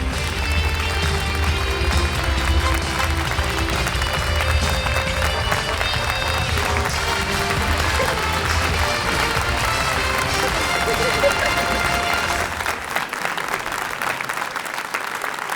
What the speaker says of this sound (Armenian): ծափերով դիմավորենք